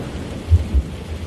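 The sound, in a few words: rain with thunder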